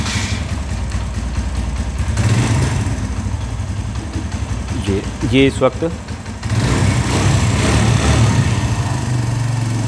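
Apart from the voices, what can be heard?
Suzuki GS 150 SE motorcycle engine idling, misfiring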